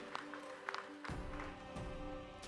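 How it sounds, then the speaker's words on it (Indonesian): Church congregation clapping together, a broad wash of many hands starting abruptly and continuing steadily, fairly close and loud. "Beri tepuk tangan bagi Dia."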